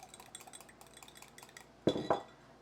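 Whisk strokes against a bowl emulsifying vinegar dressing for a tomato, mozzarella and couscous salad: soft faint clicks at first, then a louder burst of quick metallic scraping and clinking near the end.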